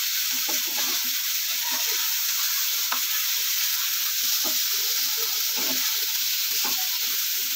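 Eggplant slices fry in a pan with a constant loud sizzle and crackle, with light stirring and scraping taps spread throughout.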